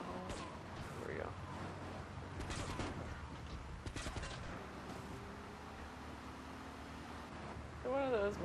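Gunshots in the video game Grand Theft Auto 3, a few scattered sharp shots and short bursts over background game noise, fairly faint, with someone talking at moments.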